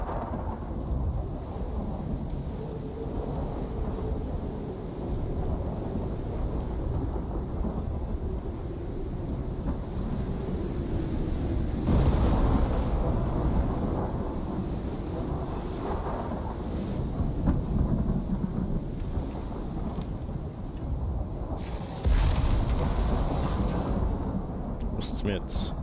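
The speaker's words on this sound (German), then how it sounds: "aber Gewitter ist halt nicht leise" Thunderstorm with deep rolling thunder rumbling continuously under steady rain, loud and close, with a sharper crack of thunder late on and faint talk in the background.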